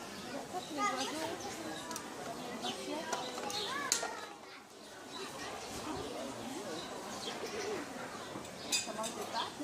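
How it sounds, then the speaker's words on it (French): Pigeons cooing at a zoo, soft bird calls mixed into a busy outdoor crowd with children's voices and family chatter close by throughout. "Les oiseaux."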